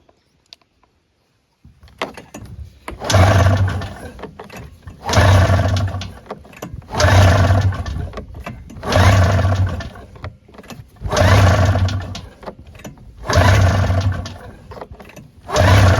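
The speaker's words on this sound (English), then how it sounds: "We'll see if it'll pump fuel." An electric fuel pump on a 2002 Arctic Cat Mountain Cat 600 EFI snowmobile runs in about six repeated bursts, each a steady whirring hum lasting roughly a second and a half with short pauses between, close and fairly loud.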